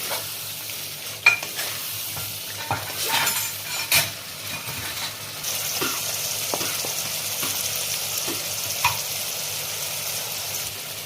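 Pointed gourd (potol) frying in ghee and being stirred in a pan, a steady close sizzle broken by repeated scraping strokes of a spatula against the metal, with no talking.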